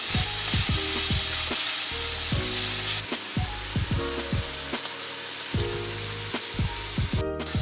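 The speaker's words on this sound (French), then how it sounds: "Maintenant, on va faire griller les épices dans l'huile." Spices toast in hot oil for vegan chili fries, giving a constant crackling sizzle broken by repeated clanking strikes of a utensil against the pan.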